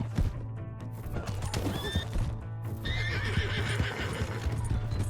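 A horse in the Red Dead Redemption 2 video game whinnies loudly and shrilly, joined by the rapid clip-clop of galloping hooves, with a further neigh partway through.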